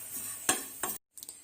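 A spoon scrapes and clinks against a pan while kurka (Chinese potato) curry is stirred in the Thrissur style with the stove just turned off. There are three short, close stirring bursts, with a brief silent gap between the second and third.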